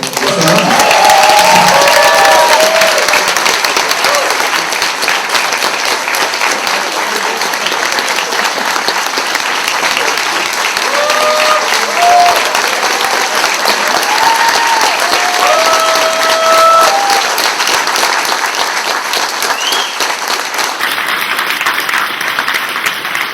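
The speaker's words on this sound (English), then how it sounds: "please give a round of applause for the president of HWA, Rocky Wood" Sustained audience applause for the HWA president at the Bram Stoker Awards banquet, a full, steady roar of many hands clapping throughout, with a few faint voices and whistles rising above it.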